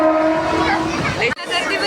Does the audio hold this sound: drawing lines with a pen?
no